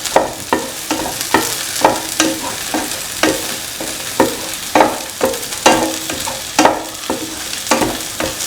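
A spoon stirs bitter gourd tamarind stew frying in a pan with chili powder, giving regular scraping strokes about once a second over a continuous loud sizzle, close and clear with no talking.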